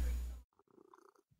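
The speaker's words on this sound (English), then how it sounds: "now I can hear the purring" A pet cat purring softly right after nuzzling a microphone, a brief rumbling purr following a loud close thump of contact, faint and intermittent.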